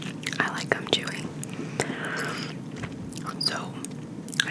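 Wet, sticky gum chewing close to the microphone, with rhythmic smacks and clicks under soft whispered talk.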